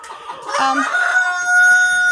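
Laying hens in a chicken coop, loud and close, with overlapping clucks and a drawn-out rising cackle near the end.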